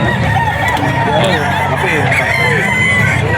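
A bullstag gamefowl rooster crows amid a busy gamefowl seller's market in Bocaue, Bulacan, its call rising over constant crowd chatter and other birds.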